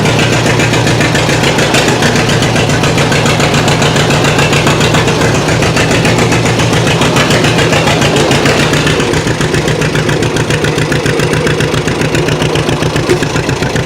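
A John Deere tractor engine chugs steadily at low revs while reversing slowly, a loud, close, continuous diesel idle with a rhythmic knock that eases slightly toward the end.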